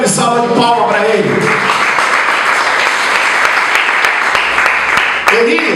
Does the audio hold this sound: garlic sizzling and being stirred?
no